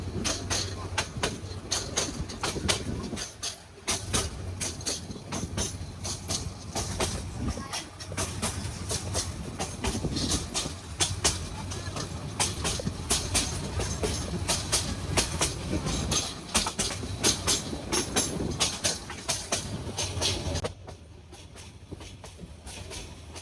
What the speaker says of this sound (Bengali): হাওর আর সবুজ শ্যামল প্রকৃতিকে সঙ্গী করে নিয়ে আমাদের ট্রেন এবার ছুটে চলেছে ময়মনসিংহের উদ্দেশ্যে